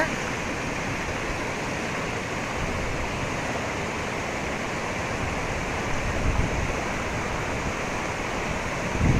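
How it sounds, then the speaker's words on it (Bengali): Floodwater rushes over the Kaichar-Karui road, a loud, dense, unbroken roar of flowing water that holds steady throughout. "জলের স্পিড বা তোর দেখে বোঝা যাচ্ছে যে কি অবস্থা"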